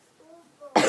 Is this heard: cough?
yes